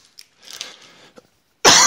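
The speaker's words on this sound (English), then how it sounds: "there's really no good way to cough when you're wearing a headset microphone" A single sharp, loud cough into a headset microphone bursts out at the end, close and harsh, after a stretch of faint rustling and quiet breathy noise.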